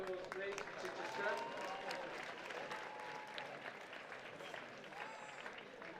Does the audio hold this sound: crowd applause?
yes